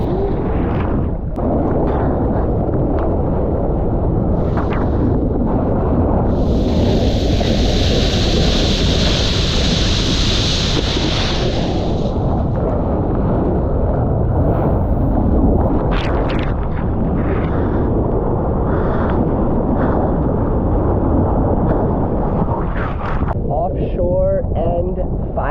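Ocean surf breaking in hollow barrels, a loud, continuous roaring wash with heavy wind buffeting on the microphone, recorded right in the water among the waves.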